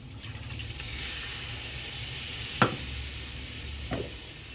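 Water poured into a hot pan of Bengali bhetki fish posto curry, made with poppy-seed paste, brings a steady sizzling hiss with two sharp splashing bursts standing out near the end.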